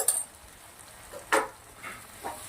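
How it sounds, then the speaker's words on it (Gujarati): Spices for butter garlic palak paneer sauté in hot oil, giving a soft, low sizzle with a few scattered clinks and stirring scrapes, fairly quiet and with no talk. "હવે આપણે આને મસાલા નાખ્યા પછી સરસ મજાનું 2 મિનિટ જેવું સાંતળી લેશું"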